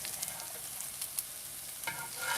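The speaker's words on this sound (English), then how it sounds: "Yeah, nice sizzle." Veggie patties of grated zucchini, corn, red onion, shallots and maitake mushroom fry in a pan, giving a steady close hiss of sizzling with a few sharp crackles and pops, and no voices.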